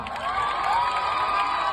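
A crowd cheers and shouts for a Govinda human-pyramid troupe at a Janmashtami celebration in Roha, a steady roaring mass of voices with whoops rising throughout, loud and continuous.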